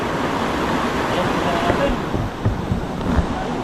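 Steady rushing water fills the background, a broad continuous wash with a few faint knocks and murmurs of voices mixed in.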